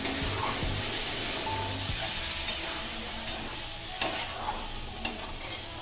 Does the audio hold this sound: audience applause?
no